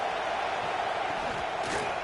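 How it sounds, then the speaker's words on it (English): A football stadium crowd roars steadily at an Oklahoma Sooners versus Cincinnati Bearcats game, a dense, continuous wall of cheering and shouting with no pauses. "The roar of the crowd trying to fuel this defense to keep them pinned in their own end."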